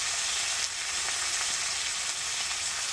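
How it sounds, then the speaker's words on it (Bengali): Ginger, garlic and onion paste frying with onions and tomatoes for a Bengali sea crab curry, a steady loud sizzle holding evenly throughout with faint stirring scrapes. "দিয়ে দিচ্ছি আদা রসুন আর পেঁয়াজ একসাথে বেটেছিলাম, ওটা এই মশলাটা দিয়ে দিচ্ছি"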